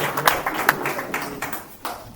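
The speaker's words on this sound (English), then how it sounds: "I think they're clapping because you did that, not me." Scattered applause at a county fiscal court meeting, a small group clapping unevenly in a room, moderately close, with a few louder claps near the start.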